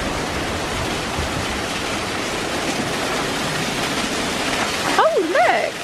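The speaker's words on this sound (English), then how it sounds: "This waterfall over here. This must be coming from the stream we crossed over on the little wooden footbridge." A waterfall fed by a stream near the Pentewan cliffs in Cornwall, a steady close rush of falling water throughout, with a brief voice over it at the end.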